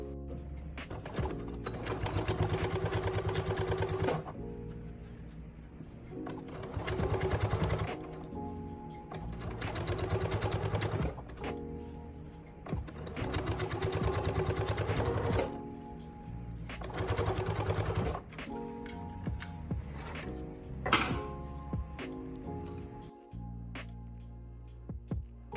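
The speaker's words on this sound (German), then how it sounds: "jetzt kannst du auch hier den Beleg wieder knappkantig an der Nahtzugabe absteppen" A sewing machine topstitches a facing close to the edge along the seam allowance of high-waisted trousers, running in several steady bursts of a few seconds each, with short pauses between them.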